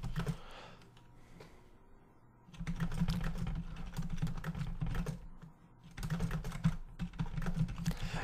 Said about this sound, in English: Now, I don't have to type anything here,